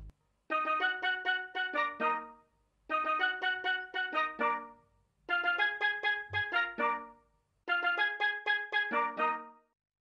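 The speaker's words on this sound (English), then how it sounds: "So this is the carimba." A kalimba pattern from a remake repeats four times, each phrase a quick run of plucked, bell-like metallic notes, clear and close, with short gaps between phrases.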